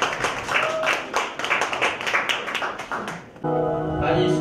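Audience members at a talk concert clap in a crisp, fairly sparse patter for a few seconds before music begins to play.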